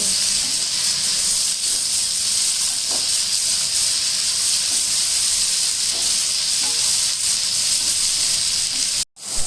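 Bitter gourd (karela) with onion and green chili frying in a pan, a steady bright sizzle and hiss throughout with faint stirring knocks, ending in a sudden brief cut.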